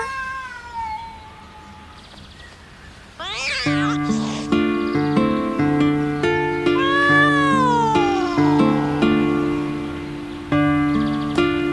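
An animated cartoon cat meows loudly and drawn-out, with several whining, wavering cries repeating over a steady, sustained musical background, no talk.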